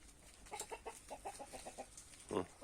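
Hens cluck softly in a quick series of short, repeated notes, fairly close, ending with a louder, harsher squawk.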